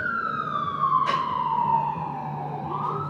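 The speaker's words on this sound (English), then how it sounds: "I'll give this ambulance a second to pass." An ambulance siren sweeps past outdoors during a library reopening ceremony, a loud steady wail that slowly falls in pitch as it moves away, with a brief burst of noise in the middle.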